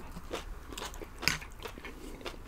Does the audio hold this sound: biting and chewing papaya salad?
yes